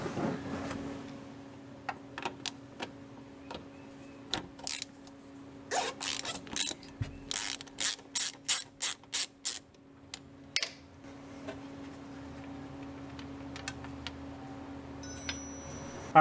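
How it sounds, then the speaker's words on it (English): Ratchet with a long extension loosening the differential fill cap on a Honda Pioneer 1000, a close burst of rapid metallic clicks midway amid scattered taps and clunks over a steady low hum. "We'll want that longer extension to get us out past the front skid plate here, and that ratchet, and we can go ahead and loosen it"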